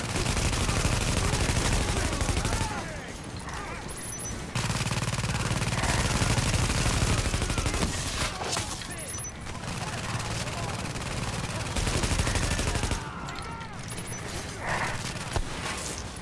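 Heavy gunfire from a big gun in The Division video game, loud bursts of rapid shots in several long stretches separated by short lulls, with players talking faintly underneath.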